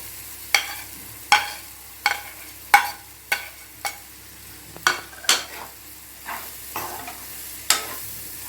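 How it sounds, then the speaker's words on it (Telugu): Grated coconut is stirred into a chana dal curry in a pan, about a dozen crisp scraping strokes over a faint background sizzle, evenly spaced and close, with nobody talking. "కొబ్బరి వేసి ఇలా కూర అంతా ఇలా కలుపుకోవాలండి"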